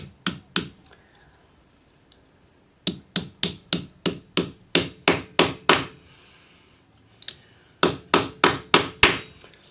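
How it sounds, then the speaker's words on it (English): A rawhide mallet strikes a metal leaf cuff to flatten it, with sharp close blows falling in quick regular runs separated by short pauses. "Hammer it flat with your rawhide"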